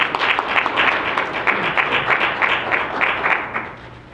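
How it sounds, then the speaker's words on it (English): An audience at a live financial education event applauds a first-time speaker, a dense, steady round of clapping from a roomful of people that fades slightly at the end. "Everybody give him a round of applause."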